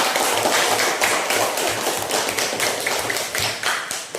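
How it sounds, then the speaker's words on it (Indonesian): Schoolchildren in a classroom clap together for a group of classmates, a steady run of sharp, rhythmic claps in quick patterned bursts, close and fairly loud. "Tepuk tangan dulu buat kelompok"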